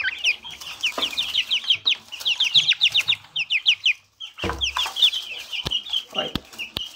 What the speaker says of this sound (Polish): Pokażę wam moje paskudne małe kurczaki.